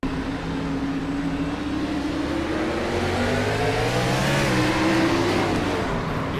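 A NASCAR Gen 6 Cup Series race car at Dover runs loud and steady, its engine pitch climbing sharply as the rear tires break loose and the revs shoot up, with no talk over it.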